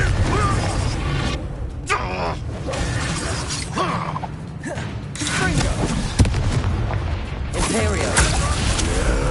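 Confringo blasting-spell explosions in Hogwarts Legacy: loud booming blasts and shattering crashes repeat through a busy combat scene, mixed with game voices and shouting that carry on throughout.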